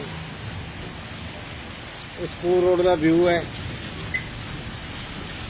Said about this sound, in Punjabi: ਜਿੱਥੇ ਬਰਸਾਤ ਪੈ ਰਹੀ ਹੈ